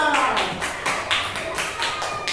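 Classroom clapping during a micro-teaching practice lesson, a series of sharp handclaps in a steady rhythm from a small group of pupils, close and fairly loud, with faint voices underneath.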